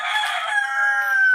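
A rooster crows once, a single loud, close, drawn-out call that falls away at the end, near a rural village home with chickens, and no speech.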